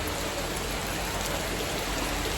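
Heavy rain pours down in a dense, steady hiss, loud and unbroken, with no voices over it.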